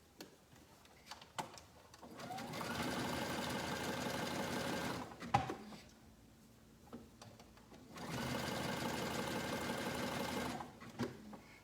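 A household sewing machine stitches a zigzag seam on swimsuit fabric in two sustained runs of several seconds each, separated by a pause with light handling clicks, close and fairly quiet.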